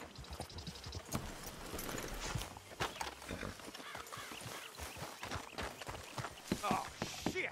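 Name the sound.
horses clip-clopping in video game Red Dead Redemption 2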